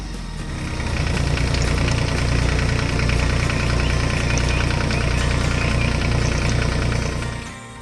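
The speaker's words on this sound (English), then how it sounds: "The blue tractor is doing a wonderful job sweeping the floor." A toy-like blue tractor's engine chugs steadily while it sweeps a floor on a construction site, a loud, close, knocking idle that holds evenly before fading at the end.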